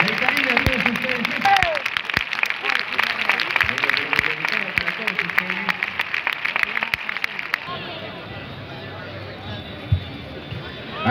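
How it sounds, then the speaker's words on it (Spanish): Clapping and crowd cheers at an outdoor street contest in La Vall d'Uixó, with an announcer talking over the noise before it cuts to a quieter scene of scattered voices. "Y se merece ese fuerte aplauso."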